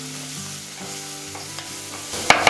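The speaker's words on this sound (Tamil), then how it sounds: "சேர்த்துட்டு நல்லா இதை வதக்கிடுங்க." Finely chopped onion sautéed and stirred in a pan for a cabbage stir-fry, hissing steadily with a low hum underneath and a couple of sharp scraping stirs near the end.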